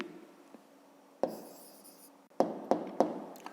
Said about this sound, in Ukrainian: А зараз записуємо тоді відповідь. Пишемо тоді відповідь.